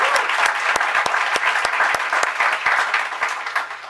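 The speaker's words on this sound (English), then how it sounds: "could we give him a round of applause, Adam Bello?" An audience at a public library groundbreaking ceremony breaks into steady, dense applause, with many hands clapping at once and sharper individual claps standing out.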